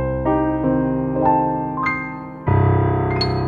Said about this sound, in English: I've loaded up an instance of Native Instruments Noire, which is an acoustic piano that sounds like this.